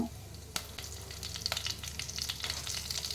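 Cinnamon, cloves and green chillies fry in hot oil for jeera rice, giving a loud, continuous sizzle close up with light stirring clicks and crackles.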